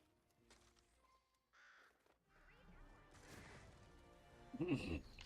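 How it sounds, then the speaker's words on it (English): Crows caw in Fortnite Save the World among scattered game effects, building from faint calls to a loud, crashing burst near the end. "Birds just keep landing here."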